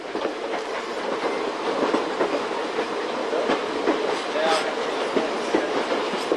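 Steam train rolling along the banks of the Arkansas River in Colorado's Royal Gorge, with a steady broadband rumble and repeated clickety-clack wheel beats, plus a brief high squeal near the end, continuous and fairly close.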